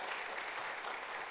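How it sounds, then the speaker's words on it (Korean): A church congregation applauds a choir of elderly singers, steady dense clapping holding at an even level throughout without voices. "오늘 엘림 찬양단을 위해서 박수 한번 쳐주세요"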